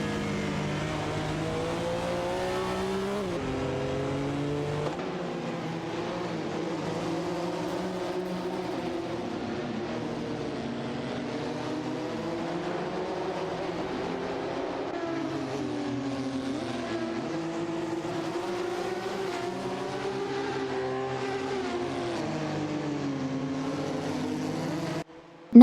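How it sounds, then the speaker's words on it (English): A pack of engines from an AI racing video game howls continuously at high revs, the combined pitch rising and falling through shifts and sharp turns, loud and steady from start to finish with no talk. "the pack ahead remains tightly contested, with several cars jockeying for position as they approach a series of sharp turns"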